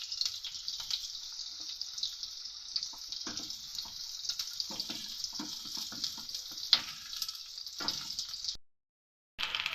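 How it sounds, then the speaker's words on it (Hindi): Masala frying in a pan for a dhaba-style egg curry paste gives a steady, close sizzle with faint stirring scrapes for about eight seconds before a brief cut. "थोड़ा सा ही फ्राई करेंगे क्योंकि इससे हमें एक पेस्ट बनाएंगे।"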